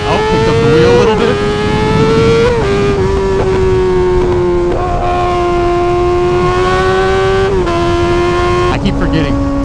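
A Yamaha R6 sport motorcycle engine howls at high revs, a loud sustained whine that holds steady and then steps to new pitches in several quick shifts.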